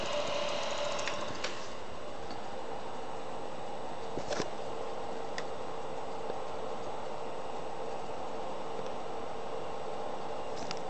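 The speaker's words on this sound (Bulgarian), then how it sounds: "Двигател се върти." Three-phase asynchronous induction motor driven by an SPWM frequency drive, giving a continuous whining electrical hum with faint ticks and clicks, steady and moderately quiet, no speech.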